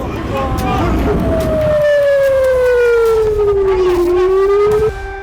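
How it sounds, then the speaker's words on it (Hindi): A loud wailing air raid siren holds a long steady tone that slowly falls in pitch, then rises again near the end, with faint background noise beneath, in a northern Israeli city during rocket attacks. "हमलों से उत्तरी इजराइल के शहरों में सायरन बज उठे"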